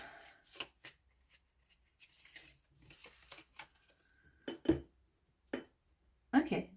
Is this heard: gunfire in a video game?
no